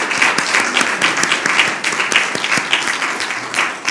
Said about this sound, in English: So a round of applause to